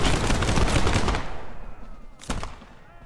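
Dense crackling musket volley from a line of 18th-century soldiers in Prime & Load 1776, a loud continuous burst of overlapping shots that thins out, followed by a few scattered later reports.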